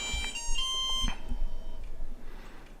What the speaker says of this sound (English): So I heard some beeping. I heard a fan turn on.